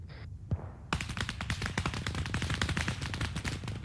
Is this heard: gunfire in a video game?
yes